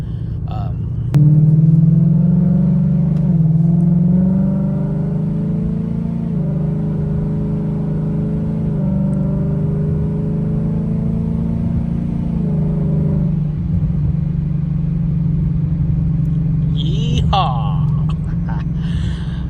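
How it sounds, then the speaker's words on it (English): A car engine drones steadily while driving, shifting pitch a few times as it accelerates and eases off, with a brief whine near the end. "It's always a blast driving this car."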